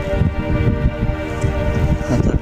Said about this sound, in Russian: Немножко ветер.